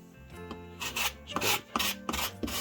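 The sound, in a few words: razor saw scraping wood to weather it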